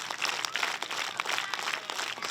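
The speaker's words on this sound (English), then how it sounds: "Let's give ourselves 10 claps." Students at Sargent School in North Andover applaud together in a dense, fairly faint burst of clapping from a group, with individual claps blurring into a continuous patter for a couple of seconds.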